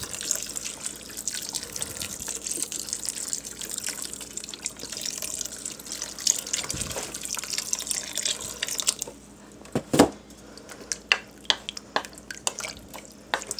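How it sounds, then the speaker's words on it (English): Chicken broth pours over red beans in a continuous soft liquid trickle, followed by a few scattered drips and light clinks near the end. "we're going to pour it in, and we're going to cover all of the red beans"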